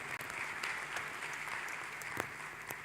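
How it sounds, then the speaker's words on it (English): Quiet applause from an audience at a pension summit panel, a soft continuous patter of clapping heard from a distance, with a brief dropout near the start. "let's give him another round of applause"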